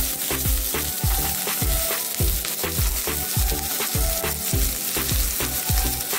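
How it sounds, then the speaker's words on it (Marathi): Green chilli pieces fry in a kadhai, a loud steady sizzle broken by a regular rhythm of stirring scrapes, close and alone with no voices. "हिरव्या मिरचीचे तुकडे घेतलेले आहेत थोडेसे, ते घालून घेते मी या कढईमध्ये"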